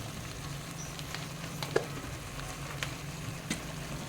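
Chili powder being stirred into chicken curry frying in a pan: a steady, even sizzle with a few sharp taps and clicks from the spoon.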